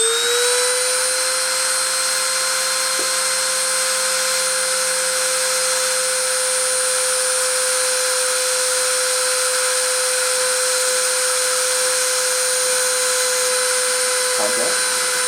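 A machine spindle spins up to 10,000 RPM for deposition. It rises quickly into a loud, steady, continuous high whine with ringing overtones that holds unchanged throughout.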